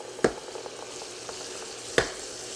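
Butter sizzles steadily under French toast in a pan, a soft continuous frying hiss broken by two sharp utensil clinks against the pan.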